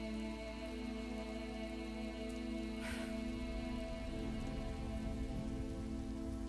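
Rain falls steadily and softly, a faint even patter that runs throughout beneath a low sustained musical drone, with one brief brighter swish near the middle.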